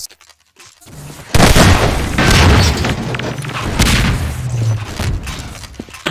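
Loud rocket blast in Half-Life 2 Deathmatch, a sudden booming hit followed by a long rumbling, crackling tail with scattered gunfire-like bursts, close and dominant with no talk.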